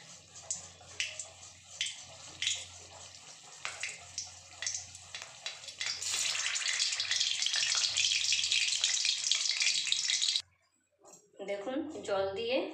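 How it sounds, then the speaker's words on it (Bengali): Water is poured into a thick batter and stirred, giving close wet slapping and dripping sounds, then a steady hissing pour, with someone speaking over it. "তাই এই হাতাটার মাপেই আমি 1 হাতা মতো জল দিয়ে দিলাম, বেশি দেবো না"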